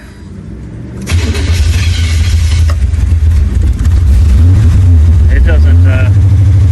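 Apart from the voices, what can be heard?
car engine cranking and starting, red parts car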